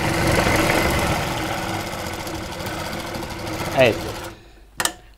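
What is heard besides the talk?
sewing machine stitching a straight seam on a blouse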